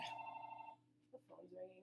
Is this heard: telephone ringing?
yes